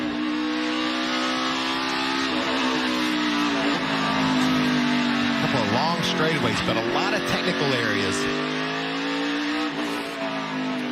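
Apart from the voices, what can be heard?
NASCAR Xfinity race car engine revving on road course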